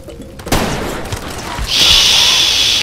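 Gunfire in the video game Far Cry 2 during an attack on a village: a sudden loud burst of shots and rumbling booms, followed by a sustained bright whine or ringing tone.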